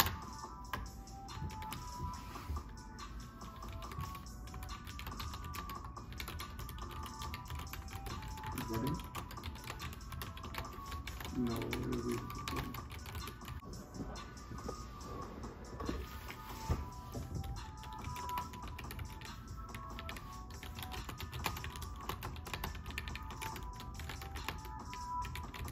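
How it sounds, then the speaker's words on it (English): Someone types continuously on a Roccat Vulkan Pro gaming keyboard, giving a dense, fast patter of close key clicks for the whole stretch, with faint talk and background noise underneath. "Let's do a type test."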